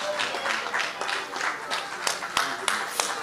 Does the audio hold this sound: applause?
yes